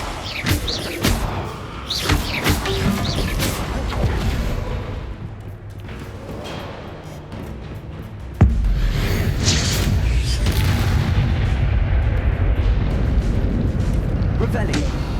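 Fire spell explosions in the Hogwarts Legacy video game, a string of heavy booming blasts and thuds with crackling debris, loud and dense, with a sharp impact midway followed by sustained rumbling combat noise.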